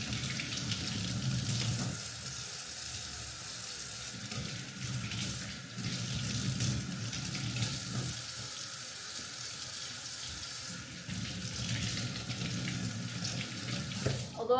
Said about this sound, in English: let me just wash my veggies